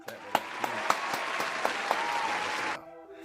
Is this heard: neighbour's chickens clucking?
no